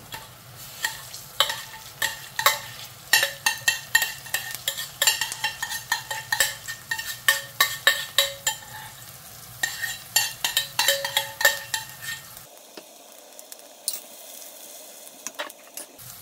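Fish eggs frying in a hot pan, a spoon stirring and scraping in quick rhythmic clanks over a low sizzle that cuts out partway, leaving sparser scrapes.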